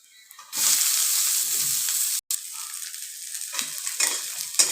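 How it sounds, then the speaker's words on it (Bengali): Onions sizzle as they fry in a pan for fried rice. The steady, loud hiss sets in after a moment, dips for an instant, then continues with soft stirring and no talk. "দেখো পেঁয়াজটা ভাজা হয়ে গেছে।"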